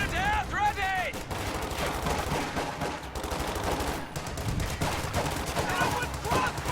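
Video game infantry trade dense gunfire in a firefight: overlapping rifle cracks and machine-gun bursts rattle continuously, with distant explosions and shouted voices mixed into the battle noise.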